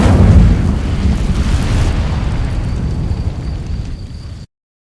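The Incendio fire spell in the Hogwarts Legacy video game bursts out with a loud, deep whoosh and boom, then a rushing roar that fades over a few seconds before cutting off.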